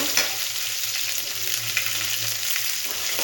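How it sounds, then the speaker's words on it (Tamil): Mustard seeds, urad dal and green chilli frying in hot oil for a cabbage stir-fry, a steady close sizzle with faint crackles and pops throughout. "எண்ணெய் சூடாயிடுச்சுங்க கடுகு போட்டுக்கலாங்க உளுந்து பருப்பு போட்டுக்கலாங்க பச்சை மிளகாய் போட்டாச்சுங்க"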